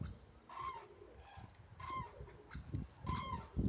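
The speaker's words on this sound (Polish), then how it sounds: "Indyki od razu się odzywają" Turkeys call in three short, warbling bursts at roughly even intervals, faint and somewhat distant against a quiet outdoor background.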